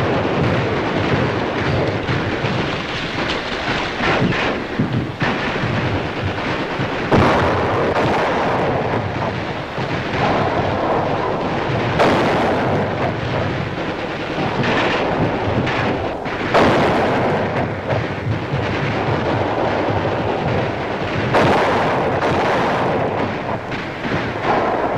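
Heavy gunfire and artillery blasts pound a beach landing in a continuous roar, with repeated booming explosions and cracking shots layered over a dense, loud, rumbling din that never lets up.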